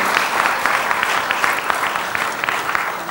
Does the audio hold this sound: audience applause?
yes